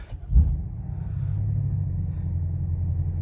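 BMW X6M F86 580 bhp SUV engine starting: a short loud cranking burst and low thump, then a steady deep idle rumble that settles and continues.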